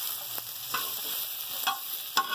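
Okra (bhindi) frying in a pan gives a continuous soft sizzle, broken by several sharp scraping stirs of a spoon against the metal.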